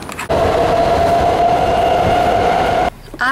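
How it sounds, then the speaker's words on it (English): A BART train rolls into a station with a loud, sustained metallic whine and rumble that holds steady for several seconds, then drops off abruptly as it stops, close by and without talk. "And there's my train!"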